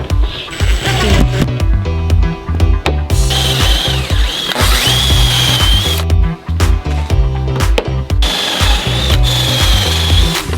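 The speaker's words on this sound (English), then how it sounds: "I added pocket holes to each end of the boards" A power drill bores pocket holes into the ends of shelf boards for an office build, whirring loudly and continuously with brief stops and restarts, with rising whine passages as the bit cuts.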